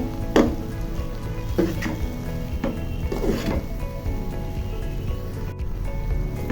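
Chinese fried rice is stirred and tossed in a pan at home, a steady sizzle under repeated scraping strokes of the spatula, close and fairly loud throughout.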